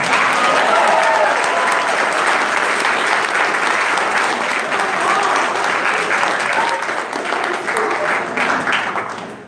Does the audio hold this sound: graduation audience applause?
yes